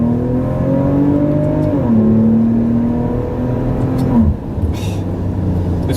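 Inside a 2017 Maserati Levante SUV, the engine drones and rises in pitch under acceleration, drops briefly at an upshift and climbs again. Road and wind noise fill the cabin, and a second shift comes near the end.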